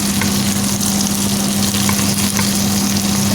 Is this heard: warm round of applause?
no